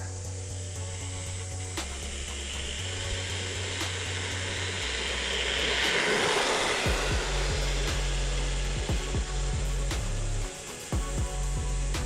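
A Hosim X06 brushed 1/10 scale RC truck runs at full throttle, its electric motor whining loud and steady as it drives near, the pitch and level shifting slightly as it moves, with rough rumbling from the tires.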